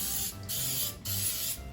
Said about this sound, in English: Okay, so we're spraying again.